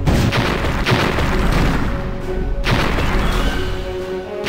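Cannonballs fire in Disney's Villains' Revenge, a PC game, as loud booming blasts. Two heavy thuds land about two seconds apart over a dense, continuous layer of game music and effects.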